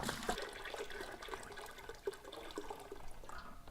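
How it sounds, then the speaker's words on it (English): Water pours into a brewing pot for a large batch of craft beer, a soft, steady gushing and splashing close by and fairly quiet, with no voices. "We're gonna fill our pot up with water."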